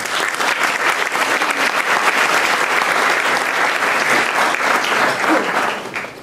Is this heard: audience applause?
yes